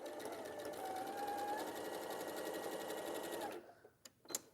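A sewing machine stitches patchwork seams in a fast, even whir for about three and a half seconds, then stops, leaving a few light clicks and handling noises.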